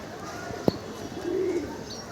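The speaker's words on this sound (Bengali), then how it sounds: "কবুতর নীলা চালি ধরে উড়া শুরু করছে।" Pigeons coo close by in a loft or rooftop setting, a single short low coo following a sharp click, against a constant background hiss.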